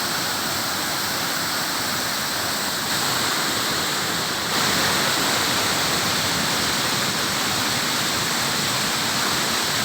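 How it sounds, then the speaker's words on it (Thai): Steady, loud roar of a waterfall at Samrong Kiat falls, a dense unbroken rush of falling water heard close, with no voices. "ดูน้ำตก อ๋อเราต้องไปถ่ายข้างล่างถึงจะเห็นอ่ะ"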